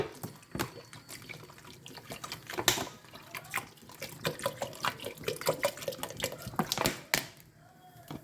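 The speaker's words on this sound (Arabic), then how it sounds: "وتوا باش نزيد الماء" Water poured into a cooking pot while making zgougou (Aleppo pine seed) porridge, a splashy, trickling stream with scattered drip-like plinks running steadily for several seconds, close by and fairly quiet.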